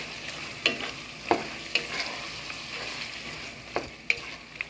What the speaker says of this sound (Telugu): ఇప్పుడు కొంచెం ఇలా కలుపుకోవాలి.